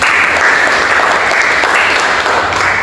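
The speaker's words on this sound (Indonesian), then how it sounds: "Tepuk tangan buat kelompok ini." Applause for a presenting group in a classroom training session, a loud, dense burst of clapping heard close up that holds steadily throughout, with no talk over it.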